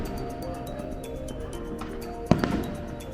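A fireworks display at an amusement park, watched from a rooftop deck, sends a single sharp bang with a crackling tail over a steady hum of distant ambient noise.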